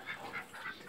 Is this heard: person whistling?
no